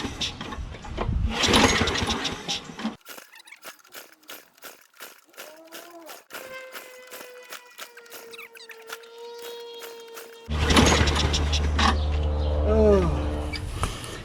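A lawn mower engine with a dirty, blocked carburetor emulsion tube and fluid poured into the intake manifold is cranked over: rapid, rhythmic clicking pulses with a whirring tone, then a loud, rough rumbling burst near the end.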